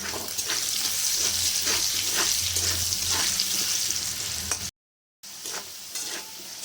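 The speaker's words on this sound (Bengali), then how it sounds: "আলুগুলো লাল করে ভাজা হয়ে গেছে" Diced potatoes sizzle and crackle steadily in hot oil in a pan, a close, continuous frying hiss with occasional stirring scrapes, cut by a brief silent gap before the sizzle resumes.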